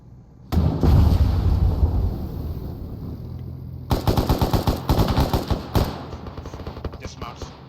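Machine gun fire during joint squad training on a bunker, loud sustained bursts followed by a rapid string of sharp rhythmic shots, with radio-style voices around the firing.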